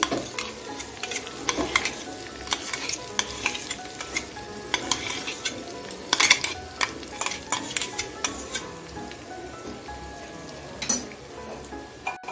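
Cashew paste and ginger stirred and fried in a pan, soft background sizzle under frequent scraping and clinking of a spoon against metal, irregular stirring strokes throughout.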